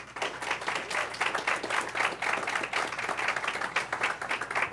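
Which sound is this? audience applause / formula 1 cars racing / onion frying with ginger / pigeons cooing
audience applause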